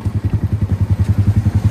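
A Yamaha R15 motorcycle with a loud aftermarket exhaust idles up close, its deep pulsing burble throbbing in a fast, even rhythm with no voices over it.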